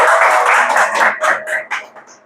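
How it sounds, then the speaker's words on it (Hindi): A church congregation in Dombivli claps together in a short burst of applause that starts full and quickly thins out to a few scattered claps. "एक बार जोर से परमेश्वर के लिए तालियां बजाएंगे"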